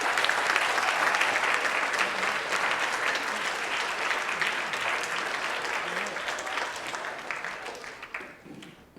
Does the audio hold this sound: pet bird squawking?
no